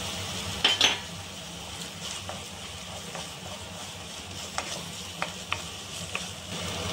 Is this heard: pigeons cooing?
no